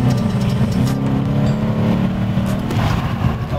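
A car with over 450 hp in sport mode revs up after a downshift, its engine note rising in pitch with harmonic layers and a throaty roar, heard from close by with no voices.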